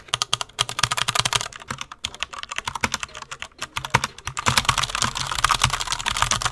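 Fingers type on a wired mechanical gaming keyboard with red switches, making close, rapid clattering keystrokes in uneven bursts that grow denser and louder near the end, with no talking.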